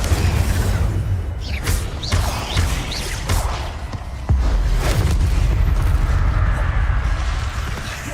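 The Incendio fire spell erupts in Hogwarts Legacy amid combat, loud whooshing bursts of flame and heavy impacts repeating over several seconds, close and dense with crashes and rumbling.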